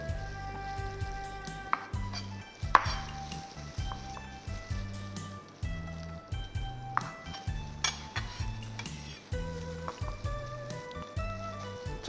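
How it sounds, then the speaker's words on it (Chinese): Knife cutting a fried prawn spring roll into pieces on a board, a run of regular thuds and light clicks about once a second, with a soft sizzle in the background. "这个我们切成5段。"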